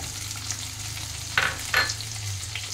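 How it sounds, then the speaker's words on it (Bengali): Chopped onion and capsicum frying in a pan, with a soft steady sizzle and two short, sharp scraping stirs near the middle. "সবগুলো দিয়ে সুন্দর করে একটু হালকা ভাজা ভাজা করে নেব।"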